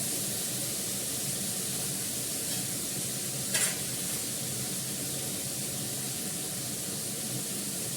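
Green chillies fry in a pan with a steady, soft hiss and one brief crackle partway through, close and fairly quiet.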